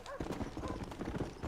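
Horse hooves clip-clop in a steady rapid gallop rhythm in the Red Dead Redemption video game, close and continuous, with game sounds and a voice faintly underneath.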